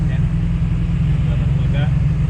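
A 1993 Typhoon's engine idles smoothly and steadily, its low, even rumble close and continuous throughout, with faint brief sounds of people talking over it.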